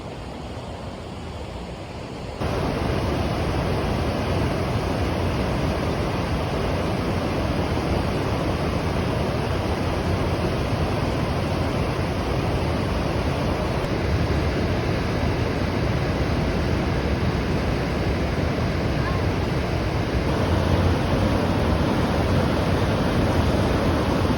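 Rushing water roars continuously, a dense, steady broadband wash like river rapids, loud and unbroken for over twenty seconds.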